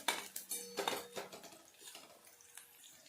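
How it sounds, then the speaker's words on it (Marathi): Onion stirred in a pan for a brinjal dish, with a few soft metallic clinks and scrapes of a utensil against the pan, quiet and close, fading after the first second. "तर आता आपण याला इथे थोडंसं हलवत राहणार आहोत हा कांदा आपल्याला गुलाबी कलर इथे परतून घ्यायचा आहे"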